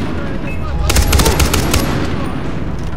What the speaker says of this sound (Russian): Но очередью не так-то и плохо стрелять на самом деле.